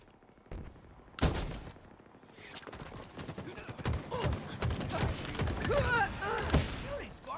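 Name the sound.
gunfire from a video game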